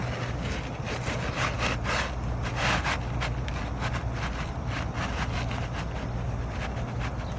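An asphalt roofing shingle is forced into place against resistance under the seal strips of neighbouring shingles, giving a loud, continuous close-up scraping and rustling with rhythmic pushes over a low steady hum.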